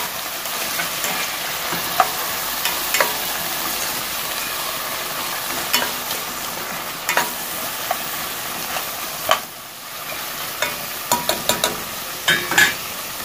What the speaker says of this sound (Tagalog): Igisa na rin natin.